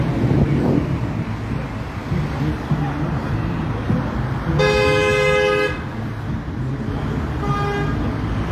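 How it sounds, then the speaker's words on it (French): Car horns honk in street traffic during a citizens' gathering in Antibes, one long sustained blast near the middle and a shorter honk later, over steady wind and traffic rumble with voices in the background. "c'est un peu stressé les gens, ça klaxonne"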